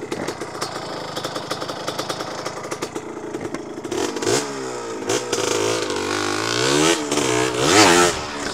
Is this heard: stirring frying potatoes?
no